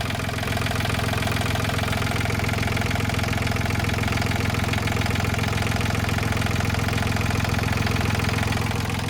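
A 2017 Yanmar 39 hp tractor engine idles steadily at close range, a continuous even chugging rumble with no talk over it.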